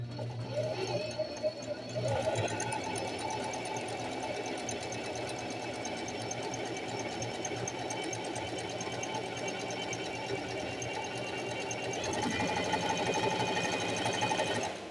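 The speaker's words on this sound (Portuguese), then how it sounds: "E agora eu vou começar a costurar." A domestic sewing machine fitted with an overlock presser foot runs steadily through fabric on a wide zigzag stitch, a continuous close mechanical whir with rhythmic needle chatter for the full stretch, briefly pausing near the start.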